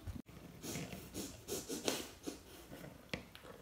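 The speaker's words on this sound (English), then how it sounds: "He's sniffing from over here." Quiet, close sniffing and snorting from a dog, short irregular bursts of breath with faint rubbing in between.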